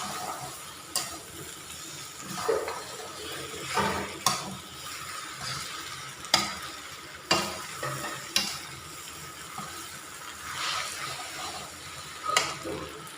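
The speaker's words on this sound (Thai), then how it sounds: "เส้นเขาลงกับพัดรวมกันเลย" Pad see ew being stir-fried in a pan, noodles tossed with cooked pork, giving a steady close sizzle with repeated scraping and stirring strokes every second or so.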